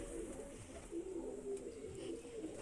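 A pigeon in a loft coos in low, soft repeated phrases close by, over faint background noise.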